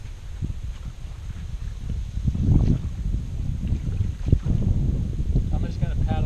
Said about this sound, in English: I'm just going to paddle up and turn around.